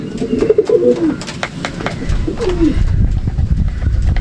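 Pigeon hen cooing close by in a racing-pigeon loft, two soft drawn-out coos rising and falling, with some shuffling and rustling in the background.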